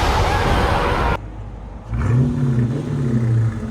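Chrysler 300 C with a 5.7L V8 and aftermarket exhaust, a loud raspy engine roar that suddenly drops away, then a deep rumbling rev rising and falling up close.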